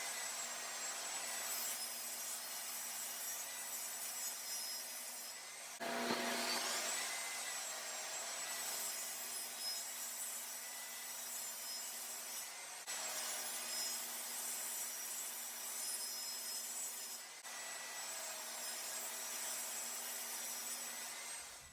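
A table saw rips plywood into pieces, a steady whining hum under the repeated rushing of blade through wood, with short breaks between cuts, near and even throughout.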